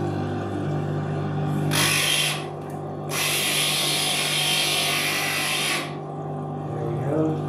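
Stained glass grinder working a wet glass edge, a steady motor hum with two louder bright grinding bursts as the glass meets the bit, heard up close without speech.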